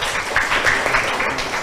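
Debate audience applauding a student team, a steady wash of many hands clapping throughout at moderate loudness, with no talk over it.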